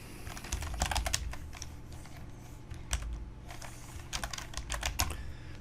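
Close, steady typing on a computer keyboard, quick bursts of light key clicks with short pauses and a few louder taps, over a low background hum.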